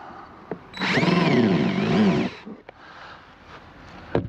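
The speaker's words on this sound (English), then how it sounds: "Now I'm just drilling a through hole on the wood" A power drill whines loudly for about two seconds, its pitch wavering as it bores into wood, followed by quieter clicks and handling noises.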